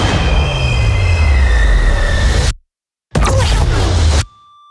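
A train rumbles loudly with squealing wheels and a low, sliding drone, cut by a brief silence before another short burst of rail noise, part of a dramatic trailer scene.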